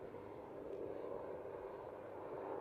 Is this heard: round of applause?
no